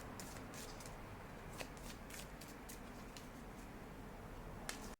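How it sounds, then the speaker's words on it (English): Playing cards being drawn and shuffled from a deck, with quiet, close, irregular papery flicks and snaps over a soft background hiss. "So I'm going to get a few more cards for you."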